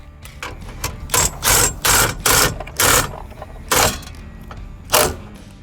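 An impact driver cranks a trailer stabilizer jack at a camp site for a Coachmen Catalina travel trailer. It runs in a series of short, loud, rattling bursts separated by brief pauses, close by, with no talk.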